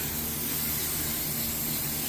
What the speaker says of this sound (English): spraying the new brake drum with brake cleaner